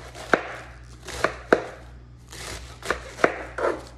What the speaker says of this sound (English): Then I just slice it. Let's do some nice little slices on it.